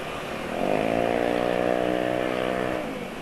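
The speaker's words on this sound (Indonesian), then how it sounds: "Aero knalpot racing." A motorcycle fitted with an Aero racing exhaust revs up, holds a steady high-pitched drone for about two seconds, then drops away, loud and close.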